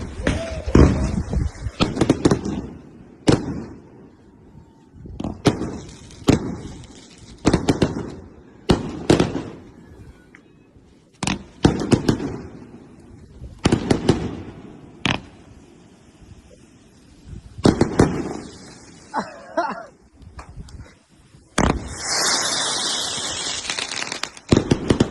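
Fireworks explode in a surprise display, a long irregular series of sharp loud bangs and crackling bursts, some in quick clusters, with hissing and a bright crackling shower near the end.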